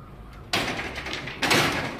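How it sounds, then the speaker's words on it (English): A door is opened in a house near a fire escape, two distinct bursts of scraping and knocking as it moves, close and moderately loud over a quiet background. "Can you open the other door?"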